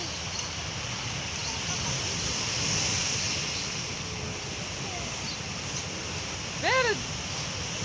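Sea waves wash on a shore in a continuous, soft broadband rush mixed with wind noise, with a brief voice speaking near the end.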